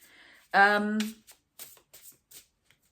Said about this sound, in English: I keep doing that with cards to tap out energy